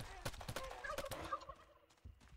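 Turkeys gobble in the video game How to Survive 2 during a night mission, several rapid warbling calls stacked over game noise and thumping impacts, fairly loud and close.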